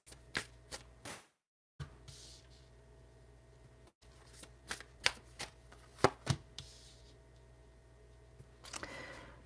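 Tarot cards being shuffled and pulled at a live reading: quiet, close riffles and sharp card snaps arriving in irregular bursts, with a brief silent gap near the start and no voices.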